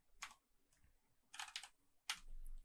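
Short bursts of typing on a computer keyboard while entering RStudio code, three quick clusters of key clicks separated by pauses, fairly close with a faint low hum underneath.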